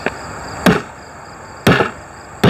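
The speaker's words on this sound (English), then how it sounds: "we use this 2-pound hammer" A 2-pound hammer taps the lid of a food storage bucket to seal it, giving three sharp, close knocks spaced about a second apart over a faint steady background hum.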